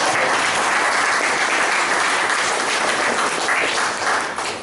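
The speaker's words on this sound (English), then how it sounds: "Let's give a round of applause for that." A Toastmasters club meeting breaks into loud, sustained applause, a thick continuous roar of many hands close by that only begins to thin at the very end.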